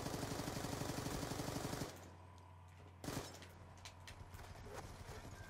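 LMG machine gun fire in a video game: a dense, rapid stream of shots for about two seconds, then quieter scattered impacts and a brief loud burst, near and fairly loud.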